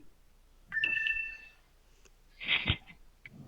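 A phone ringtone trills in a short melodic burst, followed by a louder rustling clatter and brief muffled noises, fairly near in an otherwise quiet room.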